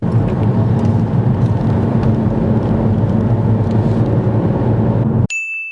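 A learner driver's car picks up speed with a loud, steady engine drone and road rumble close inside the cabin, then cuts off abruptly into a brief high chime.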